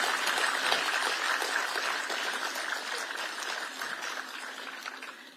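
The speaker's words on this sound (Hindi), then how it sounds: "ताली तो बजाओ" Dense audience applause fills a reception hall at the Raj Bhavan, steady and loud throughout before tapering slightly at the end.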